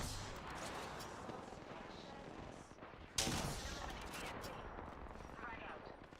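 Video game gunfire crackles in a dense, continuous barrage, with a sharper, louder burst partway through and a heavy, rumbling battle din underneath.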